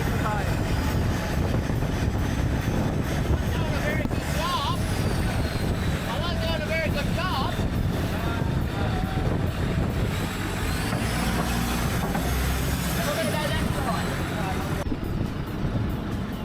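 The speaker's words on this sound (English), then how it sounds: "Driving the boat." Thai long-tail boat engine running while under way near an island, a loud continuous rough droning rumble with water and wind noise, and voices talking over it.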